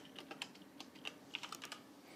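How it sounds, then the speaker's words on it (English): Quiet, close typing on a Sonix computer keyboard flashed with QMK firmware, an uneven patter of light keystrokes with a few crisper clicks over faint room hum. "we can go ahead and come over here and type on the keyboard"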